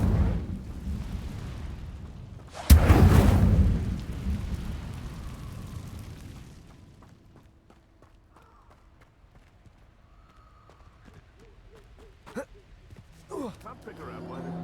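Incendio fire spell cast in Hogwarts Legacy: one sudden, loud whooshing burst of flame that fades slowly over a few seconds, followed by quieter ambient game effects and scattered faint chimes.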